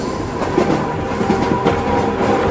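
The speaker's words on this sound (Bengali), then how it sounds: "হুড়মুড় করে ছুটে যাওয়া ট্রেনটা থেকে থেকে কেমন যেন নিঃশব্দ হয়ে যাচ্ছে" A rushing train rolls along steadily, a loud continuous rumble with rhythmic clickety-clack of wheels over rail joints and a faint tonal whine, heard alone without voices.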